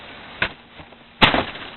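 A wooden cassette drawer knocks softly, then slides back into place with a louder scraping thud, close by with no talking.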